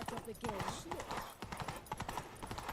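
Horse hooves galloping in the video game The Witcher 3, a steady clip-clop rhythm running the whole time beneath game music and characters speaking.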